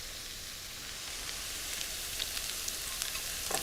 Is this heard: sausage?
yes